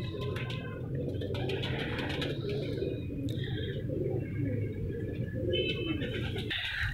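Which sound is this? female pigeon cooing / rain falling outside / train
female pigeon cooing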